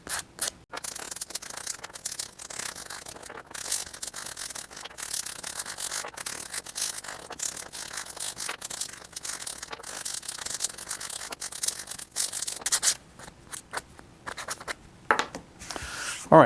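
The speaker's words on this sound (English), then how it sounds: "make sure that all of the edges are lightly sanded" Hand sanding of the edges of wooden segments for segmented woodturning, a continuous close scratchy rubbing with quick strokes and brief pauses, heard alone.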